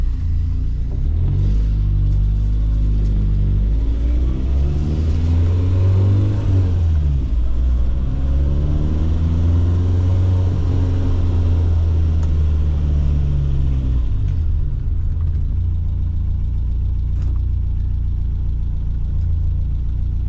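An S14-powered 1976 BMW 2002 with a 5-speed gearbox drives from inside the cabin, its engine rumbling loud and close, rising in pitch through revs, easing off, then climbing again through the gears.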